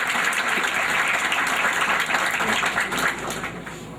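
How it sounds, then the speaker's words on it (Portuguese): A graduation ceremony audience gives sustained, loud, dense applause, a continuous roar of many hands clapping that eases off slightly toward the end. "Queria que vocês recebessem ele com aplausos."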